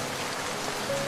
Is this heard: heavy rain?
yes